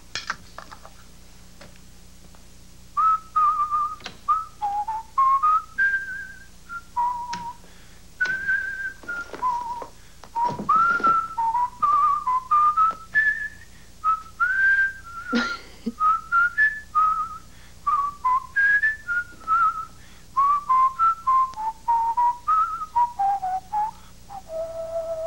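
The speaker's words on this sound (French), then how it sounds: "vous sifflez toujours?" A person whistles a wandering melodic tune in short, bright phrases with brief pauses between them, close and clear over a quiet, low hum, with some faint clicks and knocks in the background.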